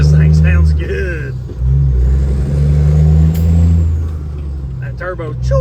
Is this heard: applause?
no